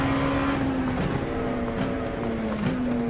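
Onboard engine of an LMP2 Le Mans prototype race car in a racing simulator, a steady loud droning whine holding near-constant pitch with brief dips and shifts, running alone without talk.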